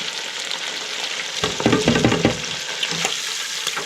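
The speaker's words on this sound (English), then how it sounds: "When it comes to frying, don't overdo your calamari." Calamari sizzles in a frying pan, a loud, steady crackle of hot oil close by, swelling into busier bursts as the pieces are stirred and turned.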